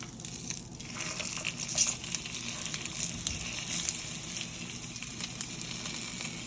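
Eggs frying in a Caraway nonstick pan give a steady, bright sizzle with small crackles and pops throughout, close and moderately loud, with no talking.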